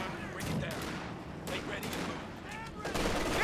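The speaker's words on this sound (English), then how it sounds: "this artillery have 100 fucking accuracy" Rapid gunfire and artillery-like blasts in a multiplayer war video game crack in several sharp bursts, fairly faint and distant-sounding, over a busy background of battle noise.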